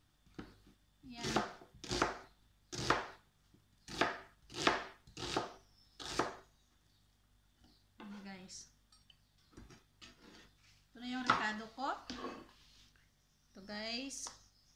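Knife chopping salmon on a cutting board for sinigang: a series of crisp, close chops in a steady rhythm, then a pause and a few more cuts mixed with a person talking.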